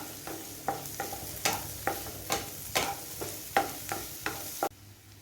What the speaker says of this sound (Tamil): வெங்காயம் ஒரு நல்ல கோல்டன் ப்ரௌன் வர அளவுக்கு ஃப்ரை பண்ணி எடுத்துக்குவோம்